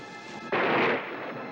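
Thunder from a storm in a 1987 movie trailer: a sudden loud crack and rumble bursting in after quieter background sound, then fading over about half a second.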